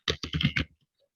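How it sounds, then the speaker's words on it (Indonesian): Quick bursts of typing on a computer keyboard while entering an SQL command: about five close, crisp key clicks in rapid succession, then silence. "Masuk kembali ke SQL, kita ketikkan perintah"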